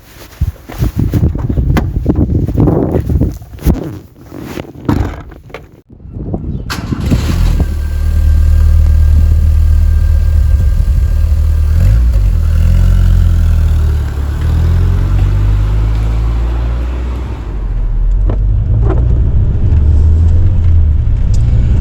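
A Rover 800 Vitesse Fastback starts up, then drives on a rainy morning in Cornwall, its engine a steady, loud, close drone with gentle rises and falls as it runs along, after some earlier knocking and handling sounds.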